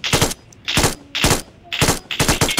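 MG3 machine gun in PUBG BGMI firing five short, loud bursts of rapid shots, each about a third of a second long and separated by brief pauses.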